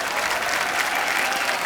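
Loud, dense applause from a television studio audience on a comedy talk show, a continuous roar of clapping that holds steady throughout.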